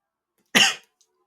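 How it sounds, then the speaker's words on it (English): One short, sharp cough bursts out close to the microphone, loud and alone in otherwise silent surroundings. "Sorry, I didn't mean to cough in your face"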